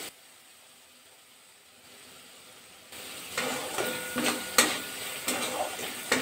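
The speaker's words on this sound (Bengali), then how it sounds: "1 মিনিট কিন্তু নাড়াচাড়া করে দিলাম কেশরি মেথিটা দিয়ে।" Spice masala with kasuri methi is stirred in a pan: after a quiet start, sizzling hiss rises with repeated scraping strokes of a spoon against the pan.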